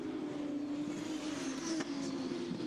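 Formula 2 race cars battling on track during a race broadcast, a steady, distant, moderately loud engine drone with a brief rising whine near the end and no clear talking.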